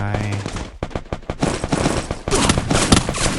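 XM8 rifle fire in a video game, rapid automatic bursts with sharp cracks that stop briefly and then start again, loud and up close, with faint voices mixed in.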